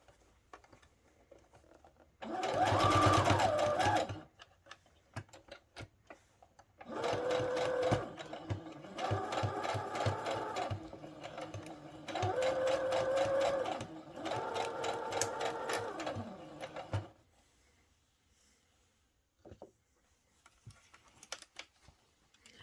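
Sewing machine stitching the seam of a satin-lined bonnet at a 5/8 allowance runs in four rapid, whirring bursts separated by short pauses, close and fairly loud, then falls quiet.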